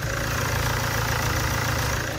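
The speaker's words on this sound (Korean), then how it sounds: "이렇게 영상에서 듣는 것처럼 디젤 엔진이라 어느 정도 소음은 있지만" A Land Rover Discovery Sport diesel engine idles with the hood open, a steady close rumbling drone with an even, slightly knocking diesel rhythm and no talk.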